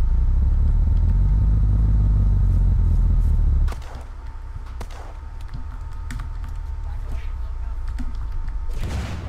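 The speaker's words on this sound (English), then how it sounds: "You're blowing up the car." A car blowing up in the survival game Unturned: a heavy, loud low rumble for several seconds that cuts off abruptly, leaving quieter sharp clicks and crackles with occasional faint voices.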